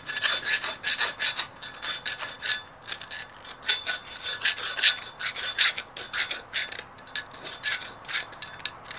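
Rhythmic rasping strokes of sandpaper scrub a thick layer of grime during a Valmet 602 tractor brake repair, close and steady, repeated in quick bursts with brief pauses.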